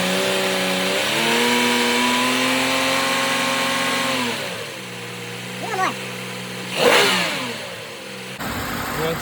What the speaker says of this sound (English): Now we're gonna rev it up some.